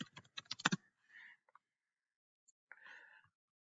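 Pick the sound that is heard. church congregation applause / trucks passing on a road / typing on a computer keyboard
typing on a computer keyboard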